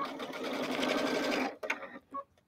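A sewing machine runs a steady straight stitch with polyester thread through a soft cuddle-fabric sack, humming loudly for about a second and a half before stopping, followed by a couple of small clicks and handling noises.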